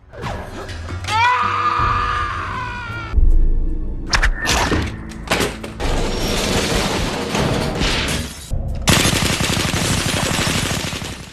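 Loud bursts of gunfire in a film crack and boom in rapid, dense volleys, mixed with thuds and a brief tonal swell beforehand.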